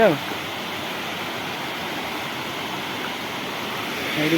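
Water rushing over Bhetbar dam in Nayagarh, a loud continuous roar of broad noise, steady throughout and close by.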